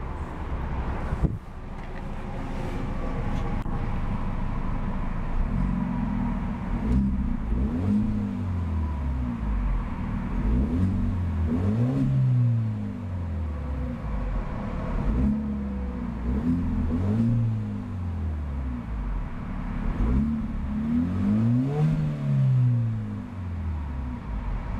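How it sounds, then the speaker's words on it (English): A 2014 Hyundai Genesis Coupe 2.0T with its 2.0-liter turbocharged four-cylinder revving in repeated quick blips, each one climbing and falling back to a steady idle, heard alone and fairly close. "let's see about a few quick revs of that 2-liter turbocharged 4-banger and see what kind of soundtrack she produces."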